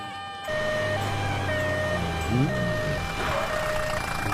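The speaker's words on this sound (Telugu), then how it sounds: "అంబులెన్స్ వచ్చింది." A siren wails with sliding tones and steady beeping as a vehicle approaches, under ongoing traffic noise and background chatter.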